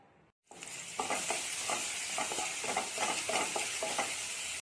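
About two tablespoons of oil in a pan burst into a strong, steady sizzle after a brief quiet moment, close and continuous with a fizzing crackle throughout and no speech.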